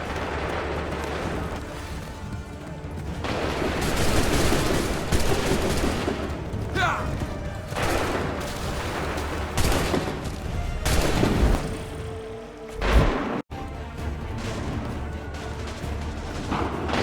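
Heavy gunfire in dense fusillade bursts, with booming volleys and some rattling shots, loud and close, rising and falling over about seventeen seconds with brief lulls.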